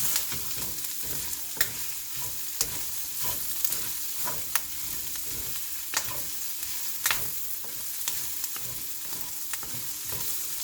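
Garlic sautés in a pan for pakbet, a continuous sizzle of frying punctuated by sharp, regular scrapes and clicks of a spatula stirring against the pan.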